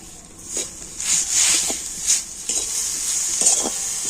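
A spoon scrapes and stirs grated coconut with cane jaggery in a pan, with repeated soft scraping strokes and a light sizzle, close and without talk.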